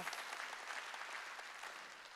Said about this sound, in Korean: 박수쳐 동일하다는 거야.